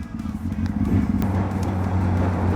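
An old Honda CB 600F Hornet motorcycle being ridden, its engine a loud, steady close drone with wind buffeting over it and no speech.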